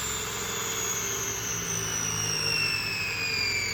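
A 10-inch Tesla turbine runs on compressed air at full throttle, a loud, steady airy roar with high whining tones that slowly fall in pitch, continuous and without talk.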